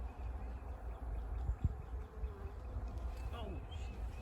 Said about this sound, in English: Still bees swarming.